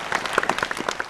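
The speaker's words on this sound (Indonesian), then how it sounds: "Kasih tepuk tangan dong, kasih suara." Studio audience on a TVRI talk show claps in a short burst, scattered hand claps fairly close and lively, lasting about a second with a bit of cheering mixed in.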